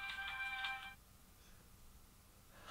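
A phone rings with a tinny, bright ringtone tune for about a second, then cuts off into quiet room tone, with a faint return of sound at the end.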